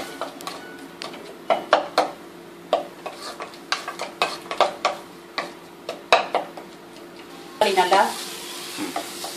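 Tomatoes sizzle and fry in a pan for a bitter gourd side dish, with a steady run of close, sharp clacks and scrapes from a spoon stirring throughout, growing busier and louder near the end.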